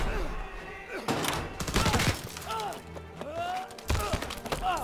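Several sharp gunshot bursts in quick succession in the game Call of Duty: WWII, over a busy game soundtrack, with a voice talking intermittently between the shots.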